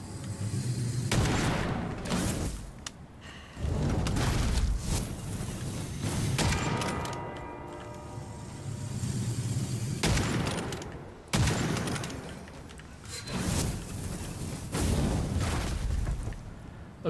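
Heavy magic shots fired in the video game Witchfire ring out as several loud, booming blasts in bursts across the stretch, each followed by a short tail, with no talk over them.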